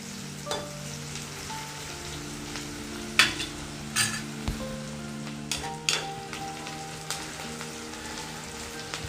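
Small fish frying with spices in a pan give a steady close sizzle, punctuated by repeated spatters and scraping stirs spread across several seconds, with no voices.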